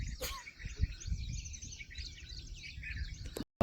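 Flock of birds near Mombatta lake at the foot of Devgiri fort chirps in soft, scattered high twitters, faint and distant over low wind rumble and handling noise.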